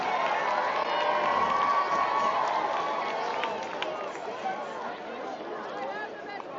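A high school crowd at an Orem vs Maple Mountain event cheers loudly for the cheer squad, a sustained roar of shouting and chatter with children's high voices that fades slightly toward the end.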